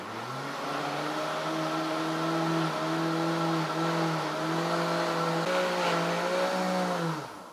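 A blender beats eggs, sugar and powdered milk into a pudding mix with a loud, steady motor whine. The pitch shifts slightly partway through, then the motor winds down at the end; nobody speaks.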